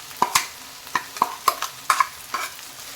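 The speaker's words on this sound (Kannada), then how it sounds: "ಇದು ಹಸಿ ವಾಸನೆ ಹೋಗೋವರೆಗೆ ನಾವೀಗ ಫ್ರೈ ಮಾಡ್ಕೋಬೇಕಾಗತ್ತೆ." Ground masala paste fried for a vegetable saagu is stirred in a pan, with about eight sharp spoon scrapes and clinks in an uneven rhythm over a soft sizzle, close and clear.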